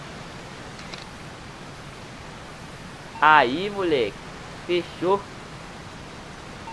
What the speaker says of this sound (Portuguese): daqui a gente já pega a cachoeira